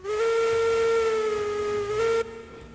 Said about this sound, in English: Hey, that's the correct whistle.